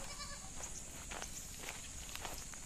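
Several goats bleat in short, scattered calls from their pen on a farm over a steady background hiss, fairly faint and at a moderate distance.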